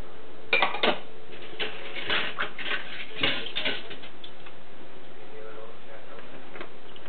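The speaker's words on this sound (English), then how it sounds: "over here is where the soaked dishes, but not rinsed yet, go" Dishes clink and clatter as they are handled in a kitchen sink, several scattered clanks and taps over a few seconds that fade into quiet running-water hiss.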